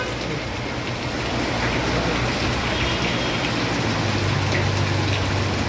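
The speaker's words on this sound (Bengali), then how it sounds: "টানা বৃষ্টি" Continuous heavy rain falls on flooded streets in Gulshan, Dhaka, making a dense, unbroken rushing hiss with a low steady undertone throughout.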